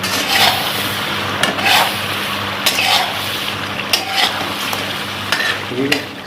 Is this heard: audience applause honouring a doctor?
no